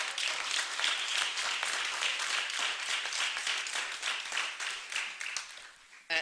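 Dense applause from an audience at a county meeting, many hands clapping steadily for about six seconds before stopping abruptly.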